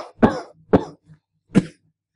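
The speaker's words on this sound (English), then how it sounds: "Sorry guys, still got this cough." Three sharp coughs close to the microphone, two in quick succession and a third after a short pause, with a faint throat sound between.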